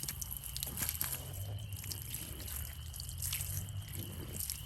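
Water trickles and drips steadily while garden seed starts are watered, faint and continuous with no talk over it.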